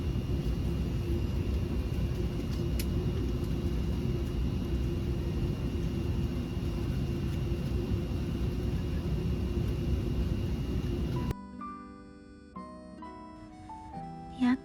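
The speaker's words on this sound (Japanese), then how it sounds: "無事に飛行機も飛んでよかったです" Steady broad jet rumble of a passenger airplane in flight, continuous and fairly loud, with a constant hum; the noise cuts off abruptly near the end and a short melodic tune follows.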